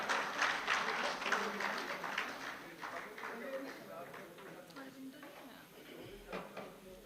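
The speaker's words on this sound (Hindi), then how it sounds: "जोरदार तालियों के साथ स्वागत कीजिए" Applause from an audience at a ceremony honouring a news team, a dense patter of clapping that fades somewhat over time, with a voice or two audible underneath.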